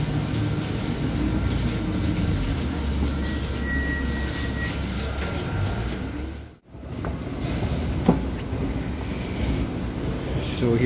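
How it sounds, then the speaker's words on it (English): Steady rumble of a Toronto subway train running toward Union Station, a continuous loud low drone with a brief dropout midway and a faint clank near the end. "from there we have to take subway to Union Station"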